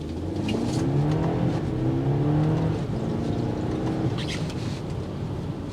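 A 2024 BMW X3 sDrive30i on a wet test drive gives a steady, close engine drone under acceleration, with some rising tonal sweeps over constant road and tyre noise, and no speech.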